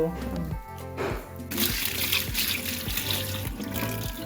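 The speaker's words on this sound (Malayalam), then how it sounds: "ഇന്ന് നമുക്കിനി നന്നായിട്ട് ഇത് കഴുകി ഒന്ന് വെള്ളം വാലാൻ വെച്ചാലോ?" Running water splashes and trickles as lentils are rinsed under it, with a voice sounding over the wet swishing.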